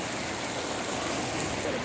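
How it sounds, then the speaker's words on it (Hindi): Rainwater rushes through a garden in Tamil Nadu after rain, a steady, close, broadband wash of flowing water with no pauses and no voices. "बगीचा में से भी पानी मालिक जा रहा है"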